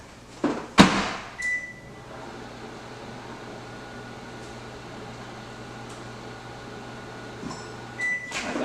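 A microwave reheating food: a door clunk and beep start a steady low hum that runs for several seconds, then another beep and a click as it stops.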